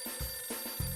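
Telephone ringing in the video game Last Window: The Secret of Cape West, a repeating electronic ring pulsing a few times over steady background game music.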